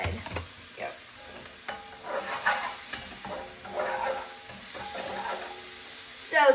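Mexican fried rice made from leftover cooked rice and other ingredients being stirred in a hot pan, with a steady sizzle and frying crackle under repeated scraping stir strokes, moderately loud and close.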